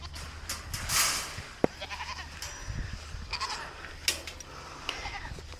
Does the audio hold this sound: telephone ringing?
no